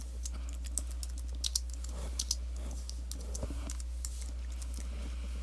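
Quiet, close keystrokes on a computer keyboard come in irregular bursts of light clicks over a low steady hum while a web page layout is being coded; no one speaks.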